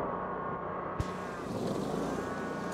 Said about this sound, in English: So we're gonna rev it up.